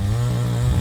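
A chainsaw cuts wood in a steady, loud, close-up drone with a low engine hum that holds level through the short stretch, with no talk.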